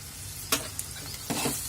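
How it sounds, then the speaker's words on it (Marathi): Thecha with peanut powder and spices is being stirred in a pan over low to medium heat, giving a steady soft sizzle with two brief louder scrapes of the spoon, no voices. "गॅस लो टू मिडियम हीटवर ठेवून छान ह्याला परतून घ्यायचं आहे"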